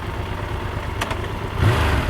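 A Triumph Tiger 1200 GT motorcycle idles through its stock exhaust, a muffled, steady mechanical hum with little deep tone, swelling slightly near the end.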